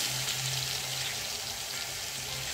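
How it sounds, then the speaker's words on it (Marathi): Kothimbir vadi deep frying in hot oil over medium heat, a steady close bubbling sizzle that carries on evenly with no voices. "आणि ह्या मध्यम आचेवर आपल्याला व्यवस्थित डीप फ्राय करून घ्यायचे आहेत"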